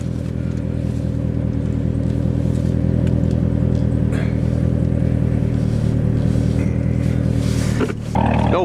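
A C8 Corvette engine runs steadily and close, with a dense rumbling idle as the car is moved a short distance, then a brief shift in tone near the end.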